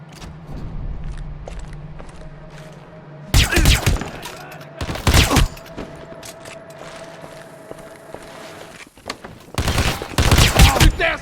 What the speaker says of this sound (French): J'ai entendu des tirs.